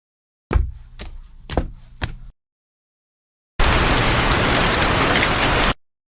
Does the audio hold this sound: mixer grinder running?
no